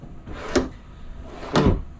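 Drawers in a travel trailer's kitchen sliding open or shut, two separate thuds about a second apart, close and moderately loud with no talking.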